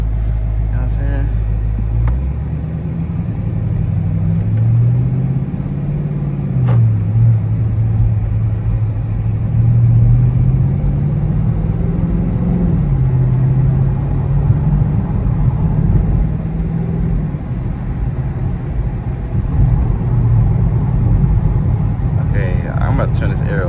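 Dodge Charger engine rumbling low and steady while driving, a continuous deep drone under someone talking.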